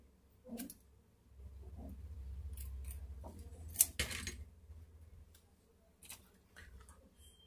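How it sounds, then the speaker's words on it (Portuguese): Scissors snipping a small piece of Kapton tape indoors, heard as a few short, crisp cuts spread across the moment, with one sharp louder snip near the middle, all close and quiet against a low background hum. "Eu cortei um pedacinho de fita Kapton."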